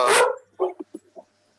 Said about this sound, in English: excuse the dogs in the background